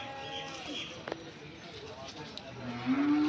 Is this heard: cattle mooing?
yes